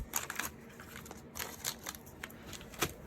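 Several short, crisp snips of scissors cutting near twine on a paper craft project, soft and close, spaced irregularly over a quiet background.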